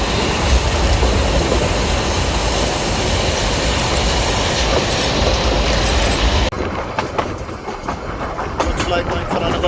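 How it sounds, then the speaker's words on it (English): A Swiss-made steam locomotive pulls a heritage train through hill country in India, giving a loud, steady rumble of wheels and carriages close by that continues throughout and drops slightly in tone partway through. "So we are leaving the platform now, and the guard is showing the green signal."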